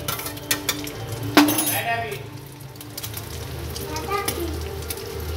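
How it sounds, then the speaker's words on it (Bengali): An egg omelette frying in a pan gives a gentle, steady sizzle, with a sharp clink of a utensil against the pan and lighter taps scattered through. "অমলেটটা আমি ভেজে নিচ্ছি।"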